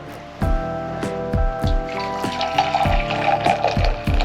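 Coffee is poured into a cup outdoors on a backpacking trail near Wolf Rocks, Pennsylvania, a close liquid stream broken by a series of regular knocks and splashes.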